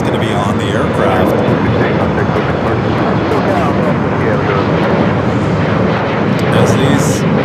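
Airliner landing on runway 25 left at LAX, a loud, steady jet roar that fills the whole stretch without letting up, heard close and continuous, with no talking.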